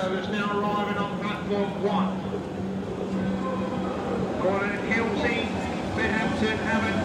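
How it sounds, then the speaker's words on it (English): An Island Line train on the Isle of Wight pulls in, a steady rumble with squealing, tonal wheel and brake sounds, heard up close while people talk nearby. "And here comes the train"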